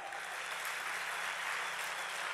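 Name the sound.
applause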